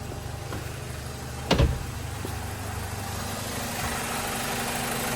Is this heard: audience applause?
no